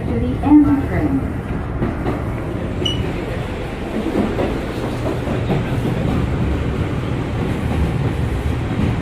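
A Bombardier R179 J train on the New York City subway rides between Alabama Avenue and Myrtle Avenue, giving a continuous close rumble and rattle of the car with clickety-clack of wheels over rail joints.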